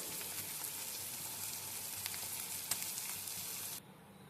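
Fish frying in a pan, a continuous dense sizzle close by with small pops, cutting off abruptly near the end.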